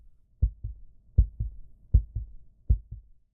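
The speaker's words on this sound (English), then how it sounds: "I incorporated a heartbeat sound that gradually intensifies, mirroring the decline in health." Video game heartbeat sound effect: four paired lub-dub beats, deep and thumping, spaced steadily and alone, with no other sound between them.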